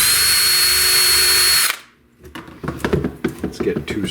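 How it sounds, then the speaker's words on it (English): A power drill whines loudly and steadily while boring a hole in a 3D printed loom frame, then cuts off, followed by handling clatter and knocks as the parts are pressed together. "we're going to drill a hole there, just so that it doesn't split and it's easier to get the screws started."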